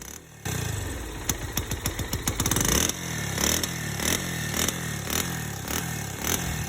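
A motorcycle engine that had been partly submerged in floodwater sputters through a rapid series of cranking pops, then catches and settles into a steady, rough idle with uneven clattering pulses.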